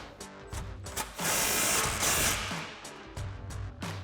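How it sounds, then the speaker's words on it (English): An impact wrench with a 15mm socket tightens an exhaust muffler clamp, a series of short rattling bursts with a longer sustained hammering run in the middle, close and moderately loud. "we're gonna grab our impact with our 15mm socket and tighten that down"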